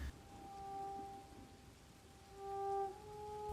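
Steady rain falls on a dark, empty forest road, a continuous soft hiss with faint tonal hum layered underneath.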